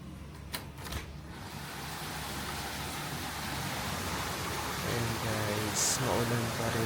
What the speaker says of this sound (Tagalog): Pakita ko sa inyo guys kung gaano ka lakas yung ulan dito